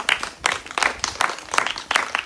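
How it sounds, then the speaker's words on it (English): Brief burst of applause from a small crowd, a few seconds of scattered, uneven clapping. "Clap it up"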